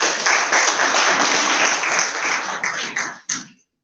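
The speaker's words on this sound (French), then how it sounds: "Applaudissez, s'il vous plaît." Audience at a book presentation breaking into applause, a loud dense burst of clapping that holds steady for a few seconds, then breaks into a last few claps and stops abruptly.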